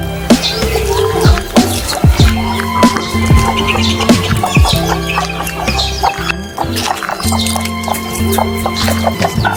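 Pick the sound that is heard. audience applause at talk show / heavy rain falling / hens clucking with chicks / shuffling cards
hens clucking with chicks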